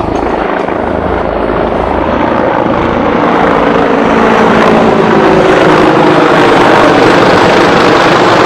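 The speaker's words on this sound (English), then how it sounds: "We got a big chopper coming." A helicopter's loud, steady rotor thrum and engine roar fills the whole clip, close by and unbroken.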